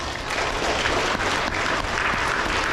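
An audience at an elementary school awards ceremony applauds a spelling bee runner-up, giving sustained, dense clapping at an even level throughout.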